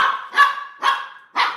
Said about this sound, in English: and then my dog is barking.